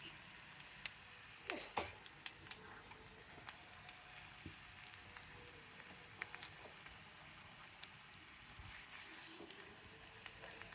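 Onions fry in a pan at home with a faint, steady sizzle. A couple of soft clinks sound near the start.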